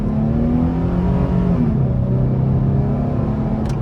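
A 2009 Nissan Frontier LE crew cab pickup with its 4.0 V6 engine accelerating under throttle, heard from inside the cab as a steady, loud, rising engine drone with low rumble throughout and no talk.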